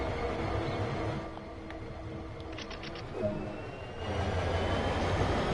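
A freight locomotive idles in Train Sim World 2 on Sherman Hill, a steady mechanical rumble with brief clicking and a short rise in noise midway, no talking.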